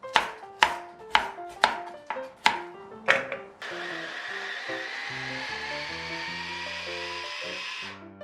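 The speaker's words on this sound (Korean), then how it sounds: "당근이 이렇게 곱게 갈아졌거든요." Carrots are chopped first, with about seven sharp, evenly spaced knocks. A blender then starts up and grinds the carrots finely for carrot cupcakes, holding a loud, steady whir for several seconds with no voices.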